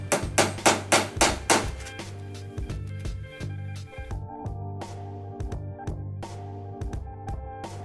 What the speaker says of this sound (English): just going to be using some nails, putting it straight through up top, and then just straight into the table